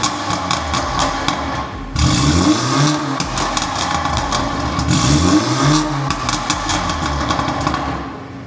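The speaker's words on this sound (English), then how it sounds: "exhaust sound with the Catless downpipes, the custom OPF delete, and with the original back box" Exhaust of a BMW G20 330e with catless downpipes, a custom OPF delete and the original back box, revving loudly in two rising sweeps over a steady idle, close up with no talk.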